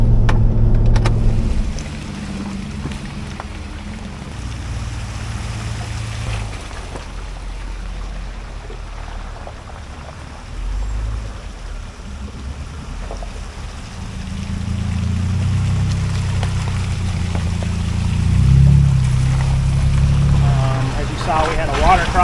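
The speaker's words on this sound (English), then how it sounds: "We had a water crossing to begin with, which got pretty decently deep." An off-road vehicle pushes through a deep water crossing on a creek trail, a low engine rumble with sloshing and splashing water that surges and fades, while people talk over it.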